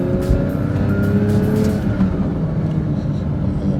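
Porsche 992 GT3 out on a test drive in sport mode after a wreck rebuild, a loud close engine note that holds steady then eases off, with road and tire noise underneath and no talk.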